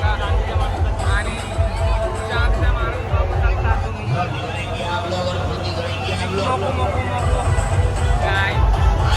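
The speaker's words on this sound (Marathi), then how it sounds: "आजची खूप गर्दी आहे इथं" Dense crowd hubbub at the Mahalaxmi fair during Holi, a steady babble of many voices mixed with low traffic rumble, continuous and close, with a person talking nearby.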